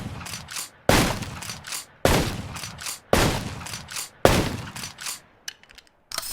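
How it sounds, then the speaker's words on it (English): Five loud gunshots from a gun in the Minecraft Just Enough Guns mod hit blocks in a measured rhythm about one second apart, each a sharp crack with a short decaying tail, followed by faint clicking. "shooting different type blocks have a different sound"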